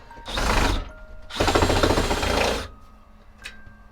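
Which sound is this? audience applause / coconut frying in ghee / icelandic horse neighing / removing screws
removing screws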